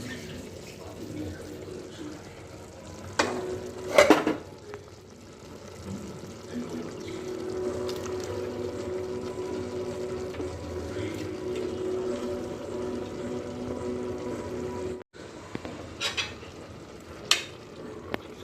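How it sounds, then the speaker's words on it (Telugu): Soaked dal tips into a pan and gets stirred, with wet scraping and sloshing, a couple of sharp clinks from the spoon, and a steady low sizzle underneath. "దాల్ మొత్తం వేసేసుకొని కలిపేసుకుంటున్నాను."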